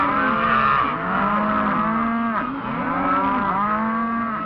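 Cattle moo steadily during calf branding out on the range, several long, loud bellowing calls overlapping one after another with no pause and no voices.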